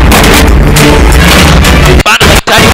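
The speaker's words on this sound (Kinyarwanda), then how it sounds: "ibiturika n'amasasu" Loud, continuous battle noise from a war film dubbed into Kinyarwanda, with explosions and gunfire booming densely throughout and a few brief dropouts near the end; dubbed voices are mixed into the din.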